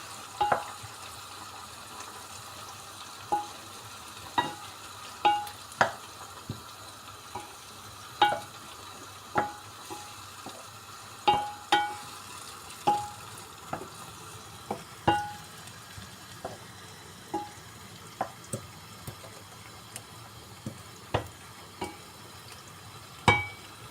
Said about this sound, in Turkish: Şimdi soğanla domatesi ekledik karıştırıyoruz.